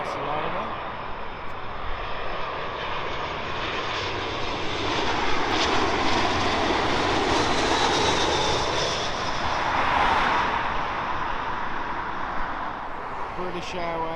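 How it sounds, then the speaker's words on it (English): A British Airways Airbus A321 airliner arriving from Barcelona gives a sustained jet engine rumble that rises and falls as it passes, with voices talking faintly underneath. "A321 from Barcelona."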